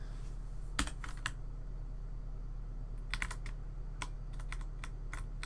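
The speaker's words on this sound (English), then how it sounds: "Nice typing, Danny Saur." Computer keyboard typing, a scattered run of crisp key clicks in irregular bursts, fairly close, over a steady low hum from game or room background.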